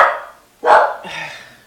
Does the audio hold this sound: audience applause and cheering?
no